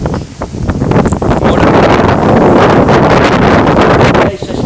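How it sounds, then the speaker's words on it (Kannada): Strong outdoor wind buffets the microphone in loud, sustained roaring gusts that rumble through nearly the whole stretch and ease slightly at the start and end. "ಎಂತ ಗಾಳಿ ಮಾತ್ರ ಬರುತ್ತೆ"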